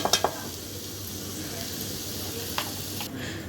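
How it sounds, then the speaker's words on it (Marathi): Garlic and onion frying in oil, a close, continuous hiss of sizzling with a few quick utensil clinks at the start and one more later. "लसूण टाकली कांदा टाकला चांगला प्रा चांगला प्र चांगला असं मस्त फ्राय करून घेईन"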